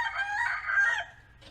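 Rooster crowing once in the daytime, a single loud, close cock-a-doodle-doo lasting about a second, followed by a brief faint cluck.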